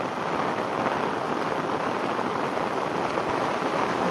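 Heavy rain falls steadily in a village, a dense, constant hiss of drops hitting surfaces with no let-up and no voices.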